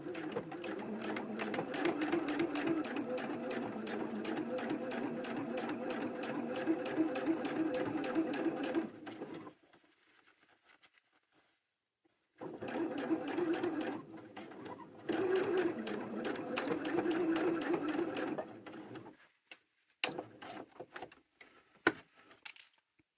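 Domestic sewing machine stitching a small doll T-shirt, a fast even mechanical whir in two long bursts separated by silence, then a few short clicks and stops, close and clear.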